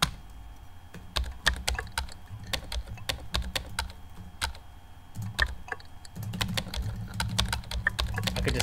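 Rapid keyboard typing sounds from the game Emily is Away, crisp irregular clicks in quick bursts with brief pauses, close and fairly quiet over a soft low background.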